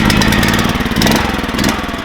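A Harbor Freight small gasoline engine, a 459cc Max Performance or Predator 420cc, runs loud and close with a choppy, pulsing exhaust note, surging up and down as the throttle rises and eases.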